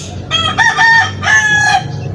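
A rooster crows loudly in bursts close by, its calls rising and breaking, with faint clucking underneath.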